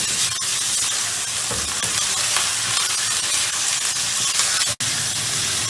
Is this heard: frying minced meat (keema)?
yes